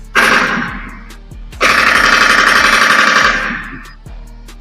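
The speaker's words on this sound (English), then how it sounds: "Gunshots in the air." Rapid bursts of gunfire shot into the air, a loud sustained rattle that breaks off, then resumes for a longer stretch before fading, with a few isolated shots between.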